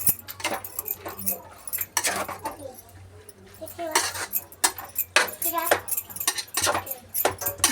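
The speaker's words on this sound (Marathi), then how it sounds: "तर जरा मी व्यवस्थित परत मिक्स करून घेते." Carrot halwa with cashews and almonds is being stirred in a pan, giving repeated metallic scraping and clinking of a spoon against the pan, close and moderately loud, with a voice talking throughout.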